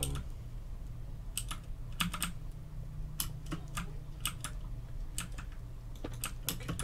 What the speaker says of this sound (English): Oh, I love the new nether brick sounds.